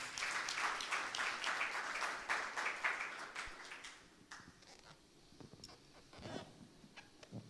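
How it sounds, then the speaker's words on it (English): A crowd applauds with dense clapping for about four seconds at a product launch event, then it thins out to a few scattered claps. "A round of applause."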